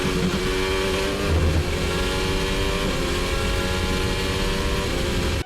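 A Formula 1 car with a 1.6-litre V6 hybrid engine holds a continuous, loud, high-pitched drone, with slight pitch shifts as it passes at speed and no talk.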